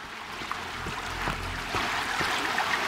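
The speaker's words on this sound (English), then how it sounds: "I hear a lot of water." Water rushes and trickles inside a cave in Sons Of The Forest, a steady broad splashing flow with faint drips and small knocks, no voices.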